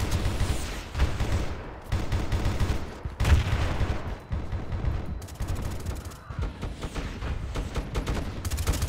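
Dense, continuous gunfire from weapons in the Battlefield 2 Frontline mod, with rapid overlapping shots, bursts and heavier booms filling the whole stretch at close, loud range with no pauses.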